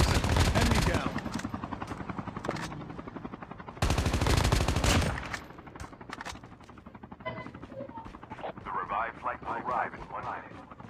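Helicopter rotor thumping and rapid bursts of automatic gunfire in a Call of Duty Mobile squad-versus-squad match, loud and dense with intermittent lulls, with players talking over the game sounds.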